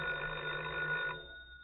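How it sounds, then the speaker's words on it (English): An old-fashioned telephone bell rings continuously in an old-time radio drama, a steady metallic trill that cuts off partway through, with no talking. "Oh, it's the phone again."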